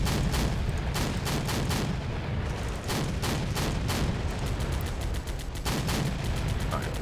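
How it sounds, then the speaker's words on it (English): A grenade launcher in a modded Russian-invasion-of-Germany war game pumps out rapid repeated rounds, a dense rhythmic string of sharp booming shots with brief pauses, under constant battle rumble. "Wow, you can just hear it pumping away with the grenades."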